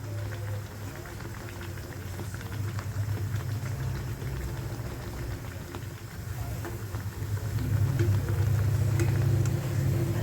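Urad dal vadas frying in oil over a low gas flame give a steady, low bubbling sizzle that runs throughout and swells slightly louder near the end, with no talking.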